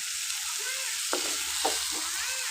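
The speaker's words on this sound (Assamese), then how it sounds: "তেলতে নহৰু পিঁয়াজো দি লৈছোঁ দেই" Garlic and onion fry in hot oil, giving a continuous close sizzle with a couple of sharper crackles as the pan is stirred.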